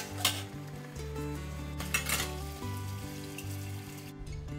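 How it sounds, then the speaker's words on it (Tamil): Leftover dishes, pots and cutlery from breakfast clatter and clink in a kitchen sink as they are washed, with running water and metallic knocks over steady background music. "பிரேக்ஃபாஸ்ட்லாம் செஞ்சு முடிச்சுட்டு மீதி இருந்த பாத்திரத்தெல்லாம் கழுவி வச்சுட்டு இருந்தேன்"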